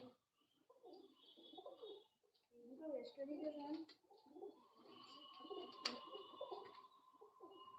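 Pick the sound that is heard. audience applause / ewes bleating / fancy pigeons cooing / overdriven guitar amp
fancy pigeons cooing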